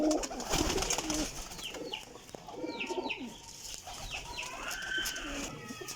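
Pigeons coo in a series of soft, close calls, with repeated warbling phrases spread through a short stretch over faint background noise.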